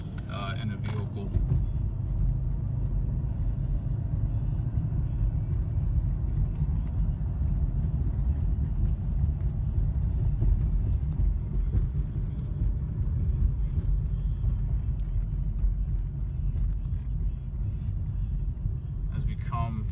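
A Mercedes E55 AMG being driven, its engine a low, steady rumble heard from inside the car, constant and moderately loud with a brief clunk at the start.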